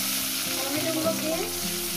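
Tomatoes frying in oil already seasoned with nigella seeds, giving a continuous, close, even sizzle with faint bubbling and no talk over the short stretch.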